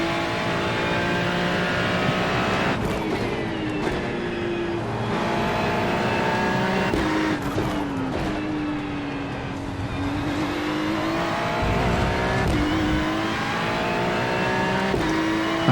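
A Ferrari GT3 race car at speed around Road Atlanta, heard from onboard: its engine screams steadily and loudly, rising and falling through repeated upshifts and sharp downshifts with no voices.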